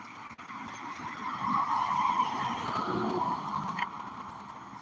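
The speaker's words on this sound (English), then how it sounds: "cars driving slow with their high beams on." Cars passing slowly at night with high beams on, a steady tire-and-engine rush swelling in the middle and easing off, heard at moderate distance with no voices.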